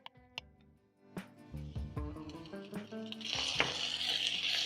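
Lean minced meat goes into a hot pan after some light clinks and tonal sounds. A bright, hissing sizzle then rises and holds steady to the end, close and fairly loud.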